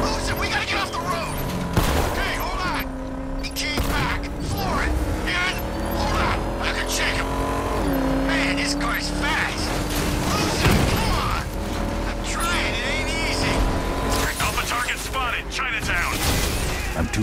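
The Batmobile drives through city streets in Batman Arkham Knight while dense gunfire rattles around it. A continuous engine rumble runs throughout, heavy bursts of shots repeat, and game voices talk over it.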